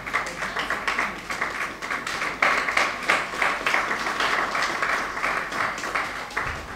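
Sustained audience applause at a university retirees association inauguration, dense steady clapping throughout welcoming distinguished guests, fairly close and even in level.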